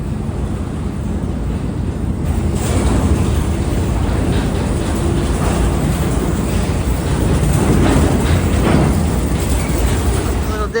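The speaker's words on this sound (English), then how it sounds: "But the train is very loud, very, very loud, because everything like echoes in here." Mine car train ride through a tunnel, a loud continuous rumble and rattle echoing off the walls, growing slightly louder midway, with voices mixed in.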